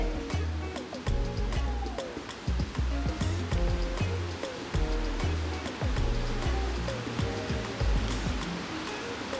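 Coconut oil is poured into a hot cheenachatti pan on a home stove, giving a steady, loud hiss and sizzle throughout, with tonal background sounds running underneath.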